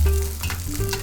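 A hand-flattened, big juicy burger patty frying in hot oil in a wok, giving a continuous close, loud sizzle with crackling bursts and no voices.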